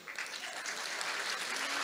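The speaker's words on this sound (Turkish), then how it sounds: "Büyük bir alkış yapın şu CHP'lilere." A crowd at an outdoor political rally claps and cheers in a dense, steady burst of applause, loud and close throughout.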